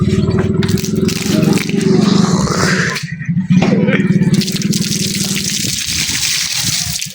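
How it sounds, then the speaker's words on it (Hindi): Steady rushing and splashing of dirty water being drained from a water tank during cleaning, continuous and fairly loud, with faint scraping and a voice at times underneath. "इस तरीके से हमने ये सारा पानी निकाल लेना है"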